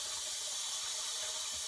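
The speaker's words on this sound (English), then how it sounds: "So I'm gonna put a little bit of water on top of this too," Water running into a sink as it is poured over shaving soap, a steady broadband hiss of flowing liquid that stays even and close for under two seconds with no voices.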